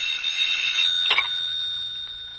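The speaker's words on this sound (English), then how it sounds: "And then suddenly the phone was ringing." A telephone rings in a vintage mystery radio drama, a steady bright electric bell tone sustained for a couple of seconds, close and fairly loud with no voices over it.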